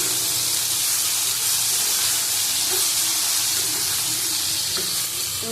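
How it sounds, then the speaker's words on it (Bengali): Okra fries in hot oil in a home kitchen pan, a steady close sizzle and crackle hissing continuously with small pops throughout. "আলুগুলি তুলে ভেন্ডিগুলি ভেজে নিচ্ছি"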